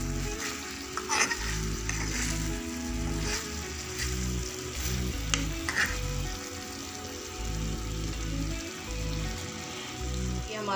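Chicken cooking under a lid in a pan gives a steady, close frying hiss with soft spattering, punctuated by a recurring low rumble and occasional faint clicks, continuing throughout without talk.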